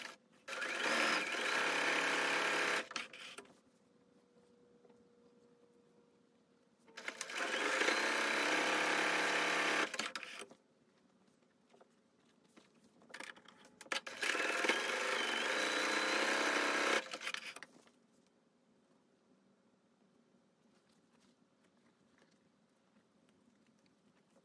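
A sewing machine stitching darts in fabric runs in three separate bursts of steady whirring, each a few seconds long, with quiet pauses between them.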